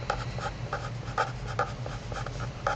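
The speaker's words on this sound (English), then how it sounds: "Let me just write this out here." A marker or pen writes out notes during a chemistry lecture, giving repeated close, scratchy strokes in a quick uneven rhythm over a low steady room hum, with no voices.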